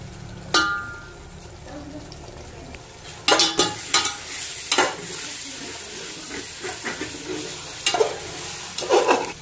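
Masala for soya biryani stirred and sautéed in oil in a pan, a spoon scraping and clinking against the metal over a steady sizzle, with irregular louder stirring strokes close up.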